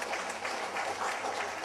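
Steady audience applause fills a hall at a media and arts event: many hands clapping densely and continuously, loud and close, with faint voices mixed into the crowd.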